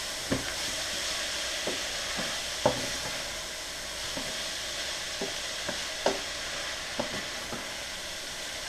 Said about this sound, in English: stir this around and saute it for an additional 5 minutes